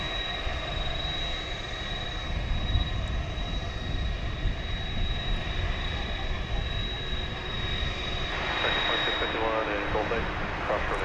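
A Qantas Boeing Dreamliner jet airliner at DFW airport at night: a steady, broad jet engine roar with a high whine, heard at a distance as a person talks over it.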